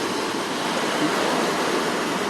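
Surf breaks on Gwangalli beach in Busan on a rainy day, a dense, continuous wash of crashing water filling the air, loud and unbroken with no voices.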